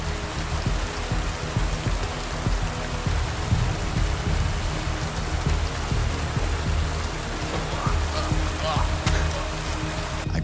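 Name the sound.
pouring rain in the video game Kingdom Come: Deliverance II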